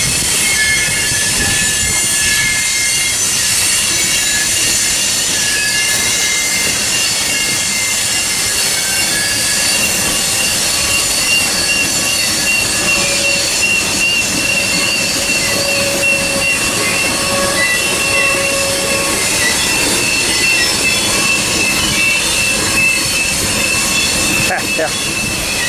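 A freight train passes at Tehachapi in hot weather, a loud, continuous rumble of rolling cars with drawn-out high wheel squeals held over it throughout.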